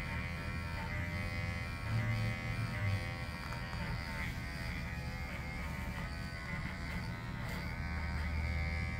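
Electric clippers grooming a dog, a steady close buzzing hum running continuously throughout at moderate level, with faint background noise and no clear speech.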